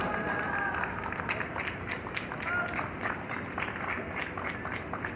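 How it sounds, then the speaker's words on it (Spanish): Audience applause at a chess tournament award ceremony, a dense steady patter of many hands clapping together at moderate loudness for several seconds, with faint crowd murmur mixed in. "Fuerte aplauso."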